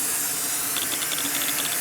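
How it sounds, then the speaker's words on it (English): Cooking oil is sprayed onto the bottom of a disposable foil pan, a steady hiss with a few short pulsing bursts, close and fairly loud, with no talking. "spray the bottom of the pan with oil."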